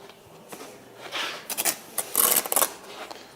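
Hand tool scraping across a bed of mortar in a close series of short, gritty rasps that build into louder strokes around the middle, alone without talk.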